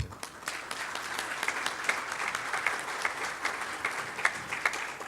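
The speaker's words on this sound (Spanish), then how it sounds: "Un aplauso." Audience clapping at an energy-efficiency-in-transport forum, a modest scattered round of individual claps with distinct sharp hits, moderately quiet and steady.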